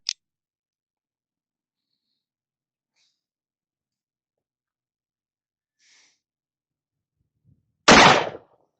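A single gunshot at an outdoor range during a powder load test, aimed at a target about 30 yards out, with a sharp loud crack near the end after long quiet and a faint click at the start.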